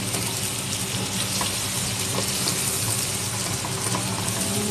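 Browning onions frying in a pan, a dense continuous sizzle with occasional faint crackles and stirring, no talking.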